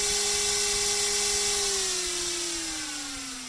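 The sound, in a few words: 775 DC motor spinning at high speed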